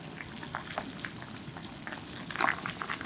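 Soup with tofu pouches and new-season onion simmers after beaten egg is poured in, giving a soft, steady bubbling and light crackle close up, with one brief sharper splash near the end and no talk.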